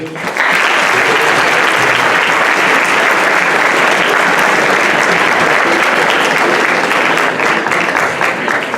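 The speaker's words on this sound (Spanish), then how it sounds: "vamos a recibir con un fuerte aplauso a Juan Jiménez Zavalli" Loud, full applause from an audience at a school welcoming a guest speaker to a talk on financial services innovation, rising quickly and holding dense and even for several seconds without voices.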